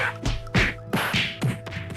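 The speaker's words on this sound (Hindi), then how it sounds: "सभी एक दूसरे को पीटने लगे।" Friends brawling, rendered as a string of sharp cartoonish thwacks and whip-like smacks, about five punchy hits in two seconds against a steady low hum, with no voices.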